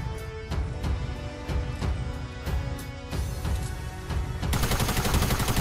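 Rapid covering gunfire in a video game, a dense run of sharp shots and bursts that keeps going, with a louder, more continuous volley toward the end.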